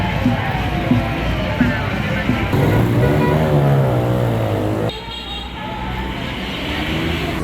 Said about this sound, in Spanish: Los autos pasan un poquito fuerte